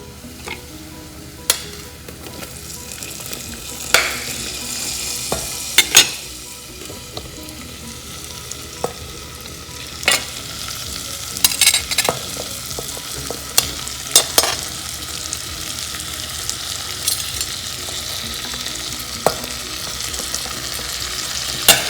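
Vegetables and spices sizzle steadily in hot oil in a pan for masala khichdi, with a continuous frying hiss broken by repeated sharp scrapes and clanks of stirring, close and fairly loud with no talk.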